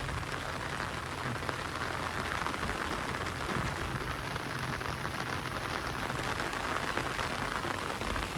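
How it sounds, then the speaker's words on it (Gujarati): A heavy downpour in a village near Botad, Gujarat, pours steadily throughout, a dense, even hiss of drops hitting surfaces with no voices. "આવો કંઈક છે મિત્રો વરસાદ"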